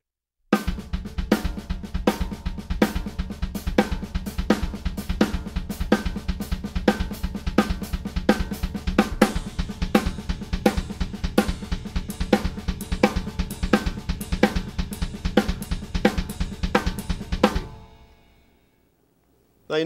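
Double bass drum exercise on a full kit, the kick drums now separated from the hands and running straight through without accents, a dense, steady pattern of kicks and cymbal hits that ends abruptly.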